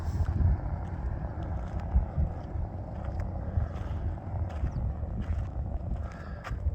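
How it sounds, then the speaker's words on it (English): Desert wind gusting across a microphone outdoors in Barstow, a low rumbling buffet that swells and dips unevenly throughout, fairly faint, with small clicks and knocks scattered over it. "It's always windy out here in the desert."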